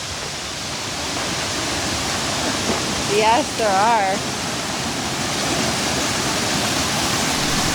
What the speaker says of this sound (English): There are 90 waterfalls in Plitvice. Some are small and bubbly, and some are tall and humongous